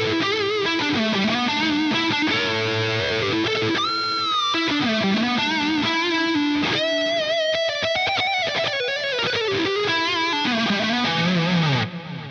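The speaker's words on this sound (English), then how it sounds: "that is a sweet sounding lead delay" A distorted electric guitar lead runs through a BOSS 500 Series hall reverb and lead delay. Fluid bending notes and quick runs carry repeating echoes that trail behind each phrase, played continuously and alone before fading at the end.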